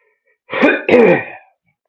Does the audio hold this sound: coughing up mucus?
yes